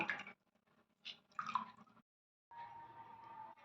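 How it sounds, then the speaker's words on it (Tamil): Lemon is squeezed by hand into spiced buttermilk: a few faint, close squishes and drips come in short bursts, then a brief steady trickle of juice. "கொஞ்சம் லெமன் புழிஞ்சுக்கலாம்"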